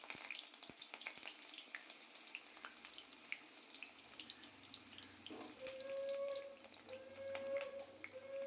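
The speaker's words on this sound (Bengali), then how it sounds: "তেলটা হিট হয়েছে কিনা চেক করার পর আপনারা আলুগুলো দিয়ে দেবেন।" Potato pieces fry in hot mustard oil with a steady, close crackling sizzle, broken by clicks and a spoon scraping the pan, while a higher tonal hiss rises partway through.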